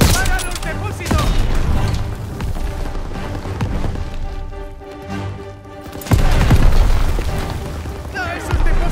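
In Call of Duty: WWII, rapid gunfire and booming blasts rip through a battle as fuel tanks are shot, with shouted voices mixed into the dense, loud combat.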